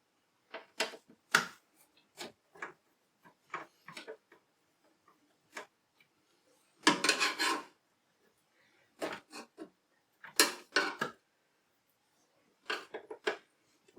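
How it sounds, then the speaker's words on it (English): Small screws are turned out one by one from a NAS drive bay, heard as quiet, close metallic ticks and scrapes in irregular bursts, with a few louder rasping twists among them. "I'm just removing the screws one at a time."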